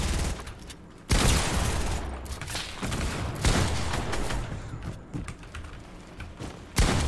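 Pistol gunfire in a video game: a handful of sharp, loud shots spaced a few seconds apart over a busy bed of continuous game noise and scuffling.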